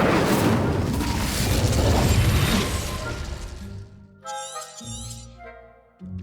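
The Incendio fire spell in Hogwarts Legacy bursts with a loud roaring whoosh that fades over a few seconds. Chiming, glassy magical tones follow it.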